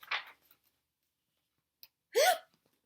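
A voice imitates a penguin's hiccup while reading a children's picture book: a faint short breathy sound, a pause, then one louder squeaky hiccup, close and alone.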